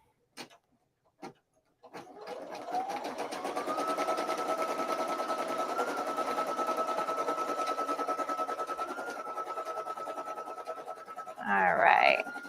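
A few clicks, then an embroidery machine starts sewing a tack down stitch, a steady high whine with a fast rapid needle chatter holding for about nine seconds before a brief rustle.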